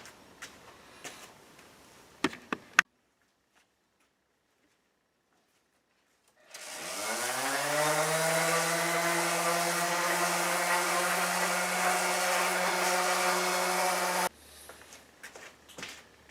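A power sander runs steadily on wooden workbench boards for about eight seconds, a loud, even whir that starts after a short silence and cuts off abruptly, with faint handling knocks before and after.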